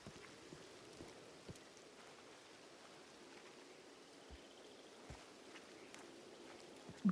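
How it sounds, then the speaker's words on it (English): Steady rain in the video game Red Dead Redemption 2, played on a roleplay server, patters as a soft, even wash with occasional sharper drops, faint and continuous with no talking. "And of course, it's raining."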